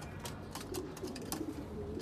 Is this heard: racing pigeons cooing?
yes